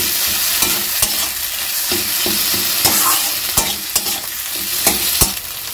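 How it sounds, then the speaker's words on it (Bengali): A spatula stirs a chili-powder-spiced mixture in a hot pan, sharp scraping clicks landing irregularly about once a second over a continuous frying sizzle. "এবার আমি খুন্তির সাহায্যে খুব ভালো করে নেড়েচেড়ে মিশিয়ে নেব।"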